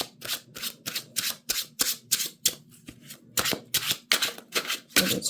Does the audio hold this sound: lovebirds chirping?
no